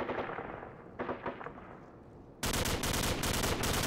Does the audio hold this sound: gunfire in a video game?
yes